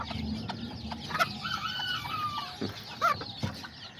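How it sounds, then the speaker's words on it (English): A small short-legged Azteca hen clucks in a run of close, moderately loud calls, with other miniature chickens and faint background farmyard noise around her. "this little short-legged chicken, she's from my Aztecas as well"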